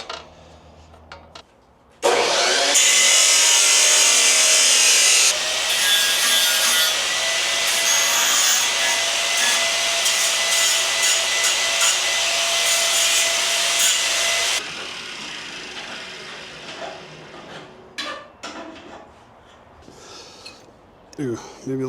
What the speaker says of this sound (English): Got 2 brackets rounded off the edges the best I could with the angle grinder.